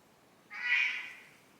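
Reggie, a house cat, gives one clear meow in a quiet room. It swells and fades over about a second, close and alone.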